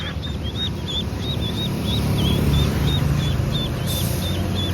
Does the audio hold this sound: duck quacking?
yes